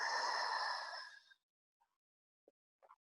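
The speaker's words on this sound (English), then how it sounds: "Allowing your inhale and relaxing your exhale" A single slow, breathy exhale trails off and fades, followed by near silence with a few tiny faint clicks, close and alone.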